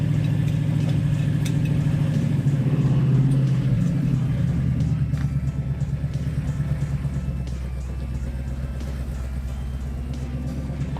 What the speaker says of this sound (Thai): โอเค เราเลื่อนรถครั้งแรกแล้วลองในซอยไปช้าๆไปก่อน